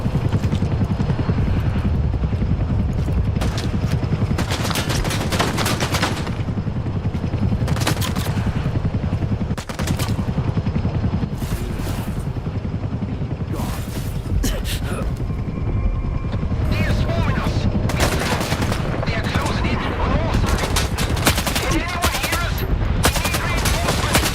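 Near, continuous rifle fire and bursts of automatic gunfire crackle through a S.T.A.L.K.E.R. 2 firefight, layered over a constant loud rotor-like drone from an aircraft.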